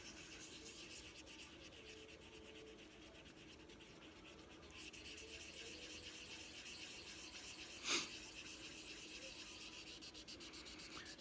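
Steady, rhythmic rubbing of sandpaper back and forth over a small hard surface, a metal Glock trigger guard, close and quiet, with a brief louder scrape partway through.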